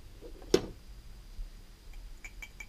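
VAP 632 moped carburetor float moving inside the carburetor: a dull knock, then a few light, faint ticks close by, with no speech.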